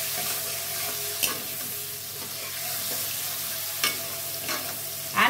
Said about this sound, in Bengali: দিয়ে পেঁয়াজটা এখন ভালো করে নাড়াচাড়া করে ভেজে নেব।